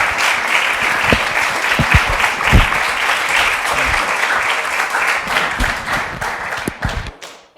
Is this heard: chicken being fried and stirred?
no